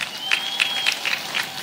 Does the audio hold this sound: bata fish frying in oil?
no